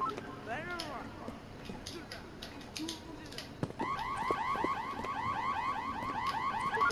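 An electronic alarm in the video game Hello Neighbor Hide and Seek starts suddenly and keeps wailing in a steady, rapidly repeating pattern, loud and continuous over game ambience after a stretch of quieter background sound.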